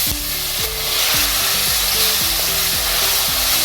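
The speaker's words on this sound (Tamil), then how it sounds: "இப்போ எண்ணெய் காஞ்சிருச்சு, சோம்பு, வெந்தயம், குருமிளகு இப்போ இதை போட்டுக்கலாம்." Fennel seeds, fenugreek, black pepper and ground garlic frying in hot oil, a loud continuous sizzle and crackle close up with light stirring scrapes, no voices.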